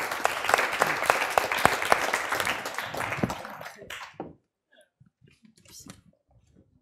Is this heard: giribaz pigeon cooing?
no